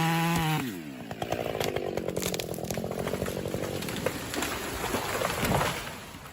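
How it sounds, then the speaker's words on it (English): A chainsaw cutting down a large tree revs up quickly, then holds a loud, close, steady roar with a rough, pulsing texture as it bites into the wood. No one speaks. "only the roar of the chainsaw breaks the silence"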